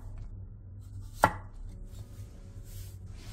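A single sharp knife chop through a zucchini onto a cutting board, slicing it into half-centimetre rounds; one crisp, close cut over a low steady kitchen hum.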